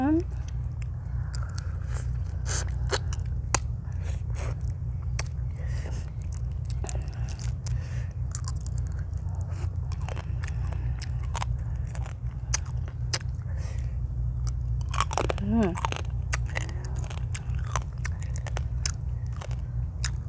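Spicy raw blue crab salad chewed and gnawed close up, with steady wet biting and crunching of shell and a low hum running underneath throughout.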